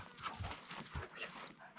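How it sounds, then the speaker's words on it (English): Dog panting and whimpering close by in an outdoor training setting, soft rhythmic breaths with faint whines over a low, noisy background, no talking. "Oh, hello puppy! What's happening?"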